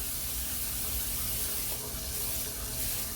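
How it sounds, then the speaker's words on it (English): A steady, faint hiss of cooking spray runs continuously for a few seconds onto a pan, soft and even. "let's spray this pan"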